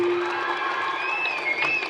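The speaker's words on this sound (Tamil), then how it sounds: "திரைப்படத்துக்கும் கைதட்டுறீங்க, இலக்கியத்துக்கும் கைதட்டுறீங்க" Audience clapping in a hall during a Tamil debate on cinema versus literary songs, a steady dense wash of applause with faint tones over it and no break.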